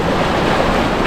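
Wind rushes across the microphone over rolling waves at a Cuban beach in Santa Maria, a dense, constant roar of breeze and surf with no voices.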